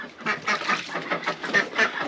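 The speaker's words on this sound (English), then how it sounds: "Ducks are very messy." A flock of waterfowl calling in quick, overlapping bursts, busy nasal quacks and honks close by, with no talking.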